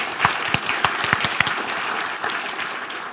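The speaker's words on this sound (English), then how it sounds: "Can we have a round of applause for that," An audience at a circular economy forum claps, with a few sharp loud claps standing out early and a softer spread of applause that tapers off.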